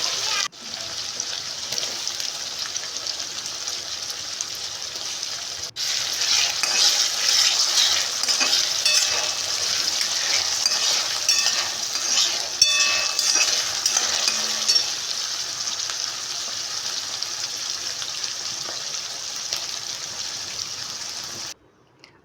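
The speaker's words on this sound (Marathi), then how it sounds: "त्यानंतर बारीक केलेला कांदा, परतून घेऊया. शिमला मिरची, लसूण आणि कढीपत्त्याची पेस्ट घालून" Chopped onion, capsicum, garlic and curry leaf paste sizzle and fry in a hot pan for pav bhaji, with steady stirring scrapes throughout, loud and close.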